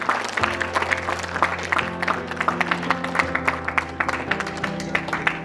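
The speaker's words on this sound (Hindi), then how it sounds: "तालियां बजती रहनी चाहिए।" Awards ceremony audience keeps up brisk, moderately loud clapping, with many distinct claps over steady background music and no letup across the stretch.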